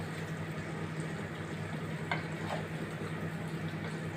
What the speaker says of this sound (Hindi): तो सबसे पहले हम बैंगनों को फ्राई करेंगे।